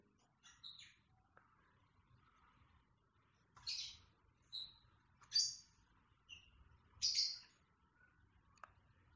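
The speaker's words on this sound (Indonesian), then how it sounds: "ini suara berisik burung" Birds chirp in short, bright bursts, a handful of scattered tweets over a faint, quiet background.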